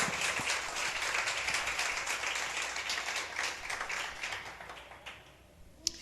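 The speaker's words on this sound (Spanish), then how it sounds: "Dele fuerte el aplauso al Señor." Congregation in a Spanish-language church service applauding: a thick, sustained wash of many hands clapping that gradually thins and fades toward the end, then a single sharp clap.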